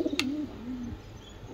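Tumbler pigeons at a breeding loft in Hyderabad give a low, soft cooing that rises and falls across the whole clip, with a brief higher chirp near the start and no talking.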